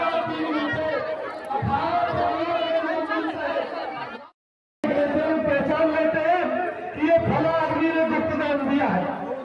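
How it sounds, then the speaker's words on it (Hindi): Dense crowd chatter fills Falahari Baba temple, a close, continuous babble of many overlapping voices that cuts out briefly, then resumes at the same busy level. "मैं तो आ चुके हैं हम फलाहारी बाबा के मंदिर में। देखिए कितनी भीड़ है।"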